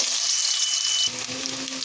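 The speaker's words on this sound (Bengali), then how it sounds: "এবার আগের থেকে কেটে ধুয়ে রাখা আলুগুলো দিয়ে একটু প্রথমে ভেজে নেব" Cut potatoes sizzle loudly in hot mustard oil in a wok, a bright crackling hiss that shifts and settles slightly as they are stirred.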